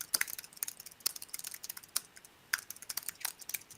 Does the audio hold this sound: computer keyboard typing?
yes